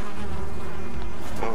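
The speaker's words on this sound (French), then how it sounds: "ils sont excités les abeilles" An angry swarm of bees buzzes loudly in the survival video game Valheim, a dense continuous insect drone filling the whole moment with no voices over it.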